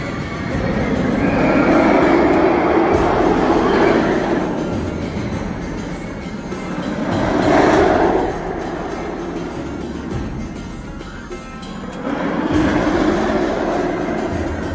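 A roller coaster train at Busch Gardens Tampa rumbles and clatters along its track, swelling louder in waves as it passes, with steady rolling noise throughout.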